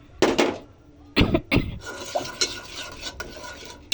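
A spoon scrapes and stirs through a white sauce of soybean oil and sugar in a pan, several irregular close scraping strokes with brief pauses between them.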